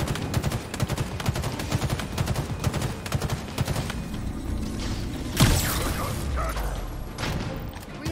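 Rapid automatic gunfire in the Halo Infinite video game as shield relays are shot out, a dense stream of close shots that ends with a sharp burst and then a lingering rumble.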